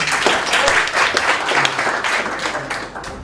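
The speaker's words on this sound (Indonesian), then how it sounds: "Boleh dong kasih applause dulu dong" An indoor audience claps and applauds steadily at a Prudential Indonesia event, a dense, loud wash of clapping that slowly tapers off.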